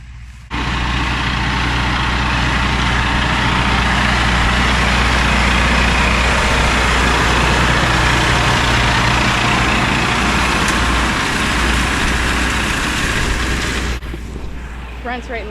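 A tractor engine runs in a hay field, a loud, steady low rumble with a constant droning hum that starts abruptly, holds evenly for most of the stretch, then cuts off near the end.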